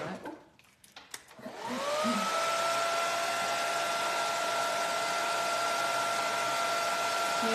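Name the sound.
heat tool drying red stencil paint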